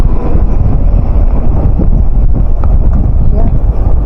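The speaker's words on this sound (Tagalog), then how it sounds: "Malakas ang hangin ngayon, grabe." Strong cold wind buffets the microphone outdoors in the Czech Republic, a loud continuous rumbling roar throughout, with a person talking faintly underneath.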